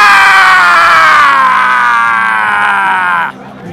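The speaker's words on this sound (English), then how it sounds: "gotta get your best metal scream" A person lets out a metal-style scream at a wedding, one long, loud, strained vocal roar that holds steady for about three seconds before cutting off abruptly into quiet room sound.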